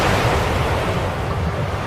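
Powerful tsunami waves crashing on shore, a loud, steady roar of surf with heavy, noisy rumble and wind buffeting, unbroken for the whole stretch, with no voices.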